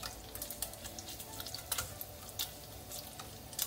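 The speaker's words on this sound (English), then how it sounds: "Now you can see that it's sizzling, so we need to lower the temperature to the minimum" Sliced beef for gyudon sizzles in a hot pan, a crackling, spitting hiss with scattered sharp pops across a steady frying bed.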